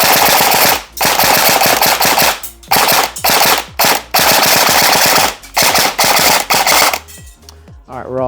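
An Arcturus CAT AK airsoft AEG fires loud, rapid, close-range bursts of buzzing full-auto shots, broken by brief gaps between trigger pulls, before sputtering out near the end.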